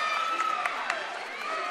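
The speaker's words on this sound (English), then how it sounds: "This crowd here at the Drubner Center is alive and well." A lively basketball crowd at the Drubner Center buzzes and murmurs steadily, with a few sharp shouts and claps poking out, beneath a continuous voice talking over it.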